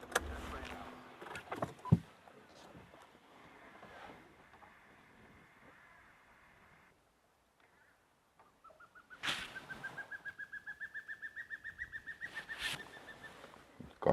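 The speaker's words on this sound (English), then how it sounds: "Goshawk is still singing away" A goshawk calls from a tree out of sight on a live African safari, giving a long series of rising, pulsing whistled notes, moderately distant, after a rustly stretch and a short pause, with no talk over it.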